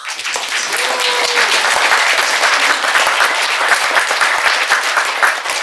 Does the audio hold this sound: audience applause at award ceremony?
yes